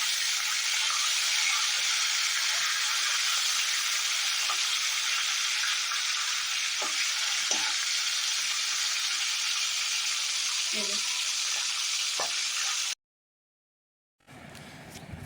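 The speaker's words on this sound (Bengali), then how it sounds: "এখানে মাছটা ভাজা ভাজা চলছে" Loud, continuous sizzle of fish heads frying in oil with scattered light clicks, close up, cutting out abruptly near the end.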